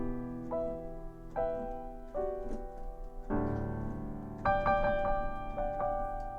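A legato melody from a song from the musical Beetlejuice played on a keyboard instrument, its connected notes flowing smoothly into one another over a sustained lower harmony and building in a few swells.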